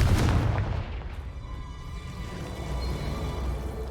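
A Confringo blast in the video game Hogwarts Legacy, one heavy booming impact at the start followed by a rumbling decay and low game ambience.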